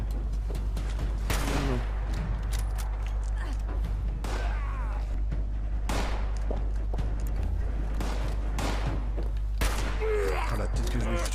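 Gunfire from a weapon in the game Fallout 76, heard as scattered sharp bursts over a steady low drone, with players talking throughout.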